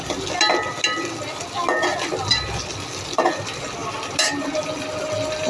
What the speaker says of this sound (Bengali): পেঁয়াজগুলো মরিচগুলা টমেটো কষে আসছে, কাঁচা ঘ্রাণটা চলে গেছে